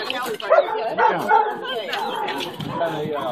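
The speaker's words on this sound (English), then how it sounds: "Callie's a good dog" A rescue dog barks several times in short bursts close by while people talk over and around it.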